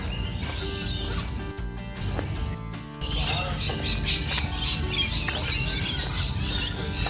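Birds squawking and calling among gum trees in the bushland of Lane Cove Caravan Park near Sydney, a busy, loud chorus of harsh cries and chirps that continues throughout, with a brief lull partway.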